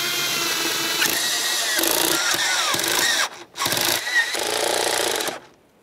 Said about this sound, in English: Now on tightening all 4 of our 8mm headed mounting bolts